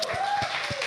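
A live audience at a podcast release party applauds a musician, giving a brief burst of steady, close clapping with a voice and a thin whistling tone over it.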